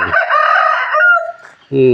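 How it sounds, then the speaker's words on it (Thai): A rooster crows once at Wat Pong Chai temple in Chae Hom, Lampang, Thailand, loud and close, a long strained call that breaks off, followed by the start of another loud burst at the end. "ขันเสียงดีเนาะ"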